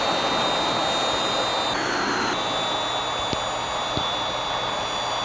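An F-16 jet engine taxiing onto the runway in the Infinite Flight game, a loud steady roar with a high whine on top, continuous and close.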